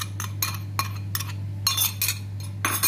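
A spoon clinks repeatedly against a bowl while tutti frutti is mixed into cake batter, about eight quick rhythmic metallic taps over a steady low electrical hum.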